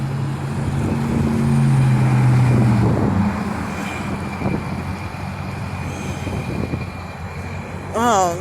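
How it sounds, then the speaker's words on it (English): Road traffic passes continuously, a steady broad rumble of vehicles that swells early on, with tonal engine or tire hums and a brief rising whine near the end. No voices. "traffic is too bad today"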